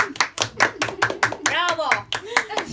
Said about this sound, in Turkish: Bir aile alkış. Alkış.